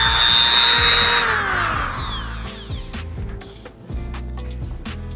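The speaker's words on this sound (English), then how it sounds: "And I'm gonna drill right in the center of it." A Dremel drill whines loudly at a high, falling pitch for about three seconds while drilling into a carbon fiber car hood, then cuts out, followed by quieter clicks and handling noises.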